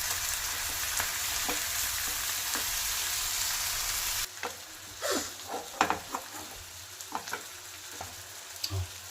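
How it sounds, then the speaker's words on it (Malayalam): Mathi (sardines) fry in oil in a non-stick pan, a steady broadband sizzle that drops abruptly partway, then continues with scattered pops, scrapes and crackles close by. "അപ്പോൾ ഇതിന് ഇങ്ങനെ ഇരുന്ന് തന്നെ ഇത് ഫ്രൈ ആവട്ടെ"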